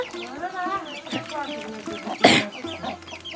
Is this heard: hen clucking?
yes